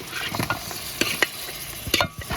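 Cooked mutton is stirred into masala in a pan for a mutton kurma, giving a short run of close, uneven spoon scrapes and clatters over a soft sizzle, with no talk.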